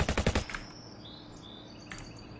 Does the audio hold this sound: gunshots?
yes